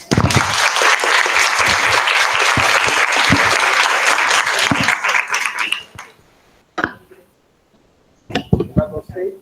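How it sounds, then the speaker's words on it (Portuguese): Audience applause at a Brazilian talk on palliative care policy, a dense, loud burst of clapping lasting about six seconds before fading, followed by brief stirring and a few scattered sounds. "Então vamos bater uma salva de palmas."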